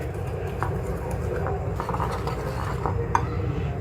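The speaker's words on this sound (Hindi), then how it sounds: "अब यहाँ पर हम ये थोड़ा थोड़ा सा मिल्क ऐड करते जाएंगे और इसको हम चलाते जाएंगे" Milk being stirred into a cornflour, sugar and cocoa mixture for homemade chocolate syrup, soft close clinks and scrapes of a spoon against the bowl over a quiet background, with one sharper tap near the end.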